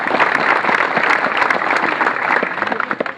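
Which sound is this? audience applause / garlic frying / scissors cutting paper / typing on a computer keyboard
audience applause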